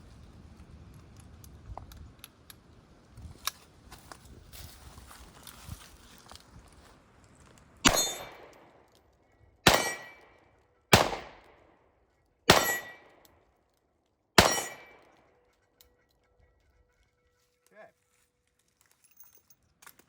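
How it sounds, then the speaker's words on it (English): Two revolvers, a Kimber K-6 S and a Colt King Cobra, firing full power .357 Magnum rounds: five loud, sharp shots spaced about two seconds apart, each with a ringing decay, after quiet handling noise. "let's do full power 357 Magnum to get a feel for the recoil"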